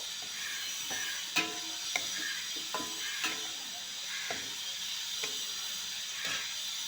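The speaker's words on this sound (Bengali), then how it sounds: "পটল, আলু আর সয়াবিন দিয়ে দেবো। এর মধ্যে একটু জল দেবো, একটু ভালো করে কষিয়ে নেব।" Pointed gourd, potato and soybean curry sizzles steadily in a pan while being stir-fried, with sharp spatula clicks and scrapes landing every second or so over the constant frying hiss.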